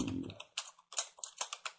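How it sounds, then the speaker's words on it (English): Typing on a computer keyboard during an online poker session, heard as a quick run of separate clicks and clacks close by, with a brief low murmur at the very start. "typing's hard"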